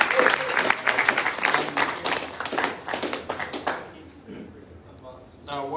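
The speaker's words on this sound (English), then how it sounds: "give another round of applause for Shannon now" An audience at a public lecture applauding, a dense burst of clapping that stays loud for several seconds, then thins and fades, leaving a quieter moment before a voice returns at the end.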